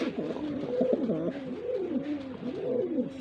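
Large domestic pigeons coo in a repeated, rolling, throaty rhythm, close and clear over faint background noise, with no talking.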